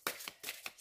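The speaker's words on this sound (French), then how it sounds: "je vais prendre directement 6 cartes" Oracle cards drawn one by one from a deck, four quick papery snaps and slides in a row, close and fairly quiet.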